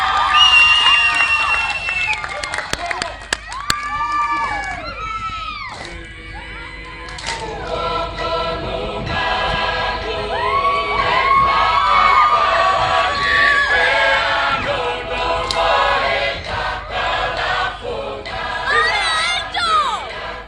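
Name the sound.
crowd applauding and cheering at school event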